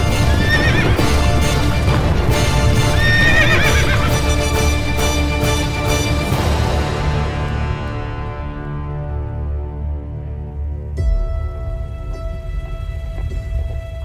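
Several horses gallop off at speed in a folk-tale scene, loud drumming hoofbeats with whinnies near the start, the pounding fading into the distance as a tone rises at the end.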